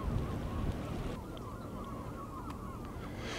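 Seagulls call over the steady wash of waves at the shore by the Warnemünde piers, their cries faint and scattered within a constant, loud surf roar.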